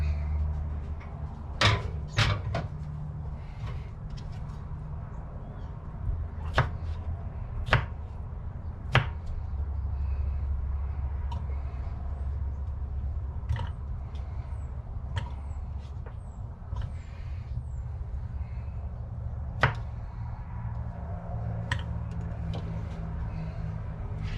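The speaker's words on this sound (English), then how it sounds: "I probably need to cut these jalapenos down in size a little bit." Jalapenos are sliced with a sharp knife on a cutting board for fresh salsa, giving scattered crisp knife taps, some in quick pairs and others spaced seconds apart, over a low, steady kitchen hum.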